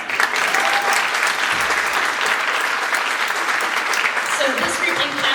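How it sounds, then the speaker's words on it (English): Audience applause at a spring band concert, loud sustained clapping from a crowd that holds steady for several seconds. "Quick round of applause for that."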